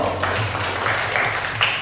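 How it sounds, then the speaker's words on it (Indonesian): Classmates clap for a student named Nando in a classroom, a brief, even burst of many hands applauding over a low background hum. "kita tepuk tangan dulu untuk Nando"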